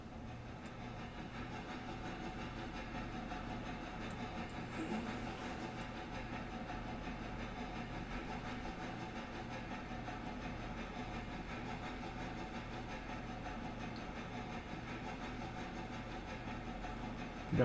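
A train rolls forward in the railroad simulation game Railroader, giving a steady, fairly quiet rumble with low engine drone and faint hiss and no talking.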